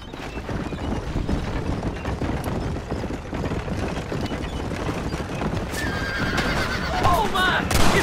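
Horses neigh and gallop in the video game Red Dead Redemption, a steady rumbling run with whinnies rising toward the end, mixed with voices and game noise.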